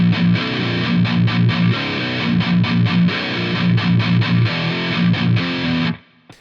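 Heavily distorted electric guitar chugs through the next part of a song with all downstrokes, dense rhythmic chords pulsing evenly for six seconds and then stopping sharply; loud, close, no voices.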